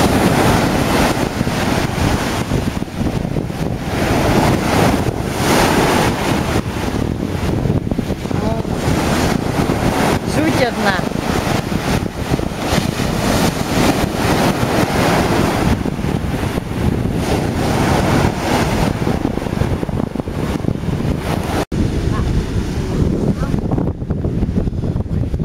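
Sea waves and wind at a beach roar continuously and loudly, a dense wash of surf and gusty wind buffeting the microphone, with occasional voices faintly mixed in.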